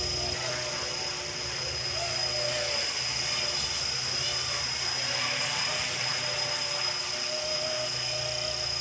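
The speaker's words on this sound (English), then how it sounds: "I hear a helicopter. There's actually a Blackhawk flying around." A Black Hawk helicopter drones steadily overhead, a constant loud whine and rotor rumble filling the whole stretch without letting up.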